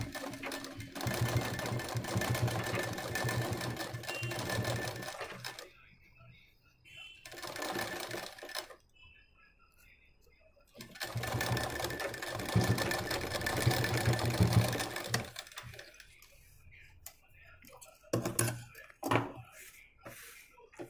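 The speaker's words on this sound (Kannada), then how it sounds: "ಲೂಸ್ ಸ್ಟಿಚ್ಚನ್ನು ಹಾಕ್ಬೇಕು ಇದಕ್ಕೆ" A sewing machine runs close by, stitching loose stitches on a blouse for ari work. Its whirring motor comes in two long bursts with a pause between them, followed by shorter starts and stops near the end.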